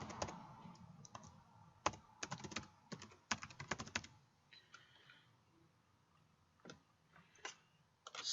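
Keystrokes on a computer keyboard as a password is entered, a quick burst of clicks, then a pause and a few scattered final taps, close and fairly quiet with no voices.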